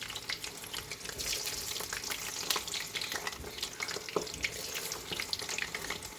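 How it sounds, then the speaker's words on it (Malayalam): Unnakkaya, banana dumplings, deep-frying in hot oil, a steady close crackling sizzle with scattered pops throughout and no voices. "ഓയിൽ നന്നായി ചൂടാവണം. അപ്പോഴാണ് നമ്മൾ ഉന്നക്കായ നന്നായി പൊരിഞ്ഞ് വരുള്ളൂ."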